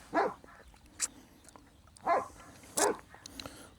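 A dog barks a few times with short, sharp yaps spaced apart, moderately near, over a quiet outdoor background.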